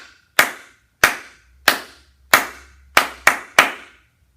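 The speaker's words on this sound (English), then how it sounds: "I'll clap it one more time." A teacher claps a quarter- and eighth-note rhythm in a children's music lesson: seven sharp, close hand claps with ringing decays, the last three coming quicker than the evenly spaced first four.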